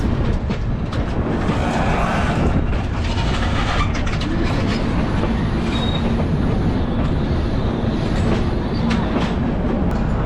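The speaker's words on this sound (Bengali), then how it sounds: "বড় স্টেশনকে পেছনে ফেলে ছুটে চলেছে one three one five one Jammu Tawi express" The 13151 Jammu Tawi Express runs fast on the rails: a loud, continuous rumble with rattling wheel clatter and occasional thin metallic squeals, heard up close from on board.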